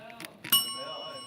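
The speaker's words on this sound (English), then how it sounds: "You gotta ring the bell." A bicycle-style bell is rung once, giving a sharp ringing ding with a sustained tone that fades slowly, with a few faint knocks and handling sounds just before it.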